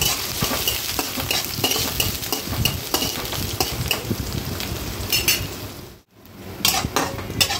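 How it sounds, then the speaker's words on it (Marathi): Onion and curry leaves sautéing in a pan, a steady close sizzle broken by frequent scraping and clinking stirs, with a brief near-silent pause before the frying resumes; no talking. "त्यात मी हा कढीपत्ता टाकला, लगेच असा कांदा टाकला आणि कांदा पण परतून घेऊ।"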